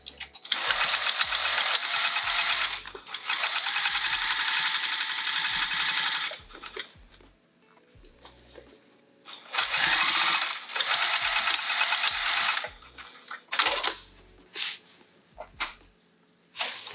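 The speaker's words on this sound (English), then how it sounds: "I'm just going to sew this shut by machine." A sewing machine stitches a fabric opening closed, its fast buzzing whir running in several long bursts, stopping and starting with brief pauses and small handling clicks between runs, close and loud.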